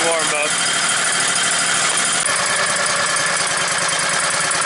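A Kohler engine on a stump grinder, just reassembled after a carburetor cleaning, idles steadily up close with a rough knocking rhythm, while a person talks over it.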